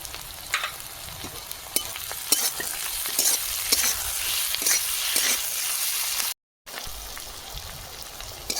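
Tomato and onion with salt fry in a pan as a spoon stirs them: a steady, close, bright sizzle with repeated soft scraping strokes and one brief cut-out near the end.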